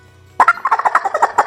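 A Haint turkey call blown to imitate a Western wild turkey's gobble, loud and close, one rapid rattling burst of about a second with no talk over it.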